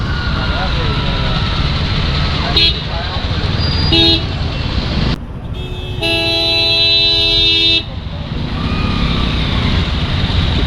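Congested road traffic hums under steady chatter, with several short car and truck horn toots and one long sustained honk standing out over the din.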